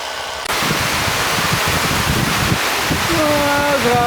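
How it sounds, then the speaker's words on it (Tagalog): Strong wind roars steadily into the microphone, buffeting loudly throughout, with a faint whistling tone rising near the end. "Ang lakas ng hangin"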